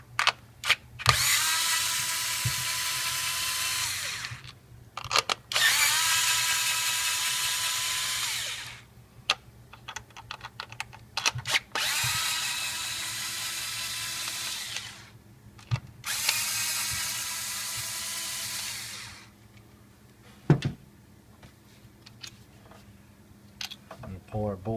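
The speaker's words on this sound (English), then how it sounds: "Now I'm using power tools. This is an 8mm bolt" A power tool whirs in four loud, sustained bursts, each a few seconds long, as it backs out 8mm bolts on a Ford Escape during a spark plug replacement, with clicks and quiet handling between bursts.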